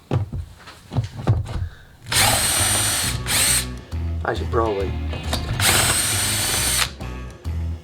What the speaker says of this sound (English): And let's drill some holes.